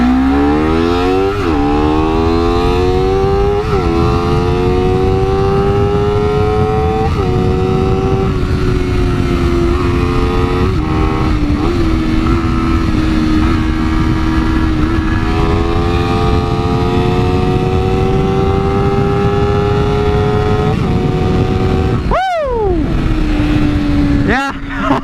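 A Honda CBR250RR sport motorcycle engine revs hard again and again, its pitch climbing and settling in repeated surges, loud and close, with a brief sharp drop near the end.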